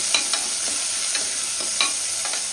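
Finely chopped onions softening over a low gas flame, a steady close sizzle with rhythmic scraping strokes of a spatula stirring them in the pan.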